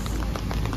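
Steady rain falling and pattering on a surface at a cattle market, a dense continuous hiss with scattered drops, fairly loud and without talking.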